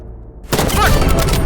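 Sniper rifle shots in a video game, one sharp loud blast erupting after a quiet start and followed by dense, sustained gunfire-like noise through the rest of the moment.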